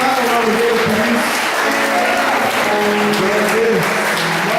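A church congregation applauding, with steady sustained clapping from a large group filling the room, and singing or voices blended into the applause throughout.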